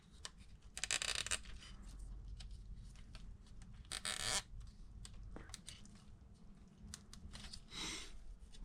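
A plastic zip tie is pulled tight around an RC crawler shock band, giving several close, sharp ratcheting zips in short bursts separated by quiet handling noises.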